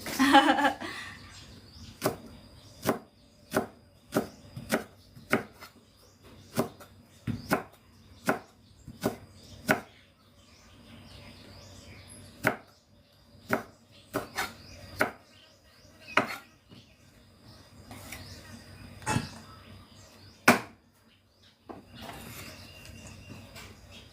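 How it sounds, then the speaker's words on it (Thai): A knife chops steadily on a cutting board, sharp regular knocks with brief pauses, some quicker runs of cuts, and no talking. "เราต้องหั่นผักก่อน"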